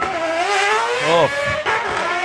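A four-rotor wide-body Mazda RX7 race car on aero discs screams past close by, its high rotary wail climbing and then dropping sharply with a Doppler sweep, the engine stumbling briefly before pulling hard away again; a voice gives a short exclamation.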